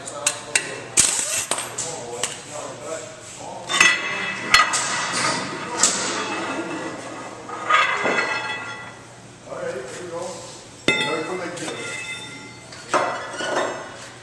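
Rear axle bolts coming off and an axle shaft sliding out: scattered metallic clanks, taps and dull thuds up close, with a voice heard faintly at times.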